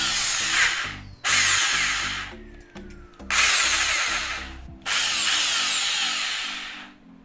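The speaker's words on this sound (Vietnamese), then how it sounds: "Đảo chiều nha anh em, dành cho anh em khoan ha" A Bosch reversible electric drill runs in four loud, close bursts of whirring motor noise, stopping and restarting between them, with a hum continuing underneath.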